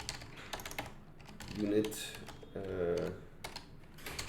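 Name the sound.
typing on a computer keyboard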